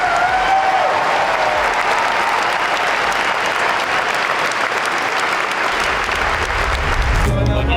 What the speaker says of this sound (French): vous pouvez vous applaudir très très fort